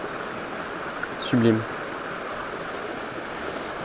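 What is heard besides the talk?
small stream flowing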